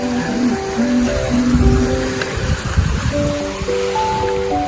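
Sea water at high tide washes in a loud, steady roar of surf, with low rumbling swells rising and falling close by and a faint tonal hum over the top.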